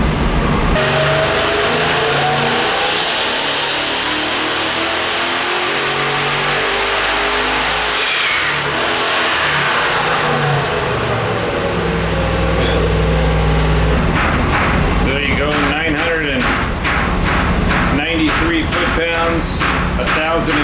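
A twin-turbo 447 cubic-inch LS engine built for a 1955 Chevy roars on a dyno, holding a loud, sustained rising drone before dropping to choppy, rapid revving bursts near the end, with voices faintly underneath.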